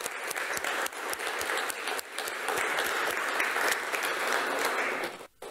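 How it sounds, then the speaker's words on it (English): A church congregation at a Presbyterian harvest service gives a sustained round of applause, a dense, steady crowd of clapping hands that fades out at the end. "let's just give them a round of applause."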